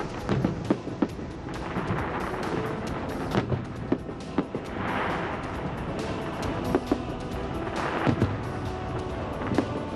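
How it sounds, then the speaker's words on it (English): Fireworks at the New Frontier casino implosion in Las Vegas crackle and pop in rapid, irregular bursts over a continuous roaring rumble, with sharp bangs scattered throughout at a moderate distance. "Fireworks rocketing high into the sky."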